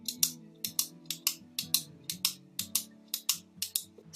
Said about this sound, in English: Pen clicking.